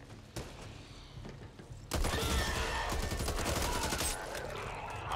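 Gunfire in the zombie shooter Back 4 Blood: a quieter stretch with a single sharp shot, then a dense, loud burst of rapid automatic fire and impacts that carries on to the end.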